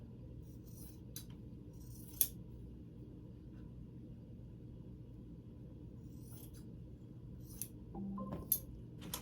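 Scissors trim a purple water bag, giving a few faint, sharp snips and clicks spaced out over a quiet, low room hum.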